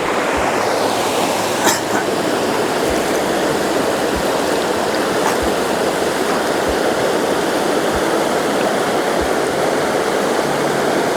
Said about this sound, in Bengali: দেখুন কীভাবে জল এগিয়ে চলেছে